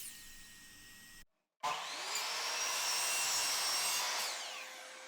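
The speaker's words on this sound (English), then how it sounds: "now I need to cut a whole bunch of these little 1/4 inch shims to fit underneath my track" A power saw cuts through thin 1/4 inch plywood shims, a loud, steady rasping whine that stops briefly, then resumes for a sustained cut lasting several seconds before tapering off.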